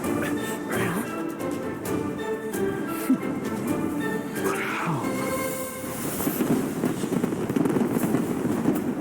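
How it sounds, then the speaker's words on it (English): Fireworks show in the video game Genshin Impact, with a series of sharp bursts and crackling pops over a dense, rumbling backdrop of game music and effects, growing busier toward the end. "A fireworks show?"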